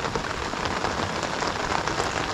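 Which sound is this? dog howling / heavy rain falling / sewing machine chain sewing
heavy rain falling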